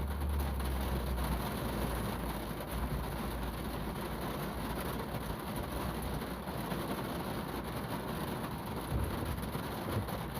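Heavy Texas rain pours steadily outdoors, a dense continuous hiss with a low rumble underneath, loud and unbroken for the whole stretch.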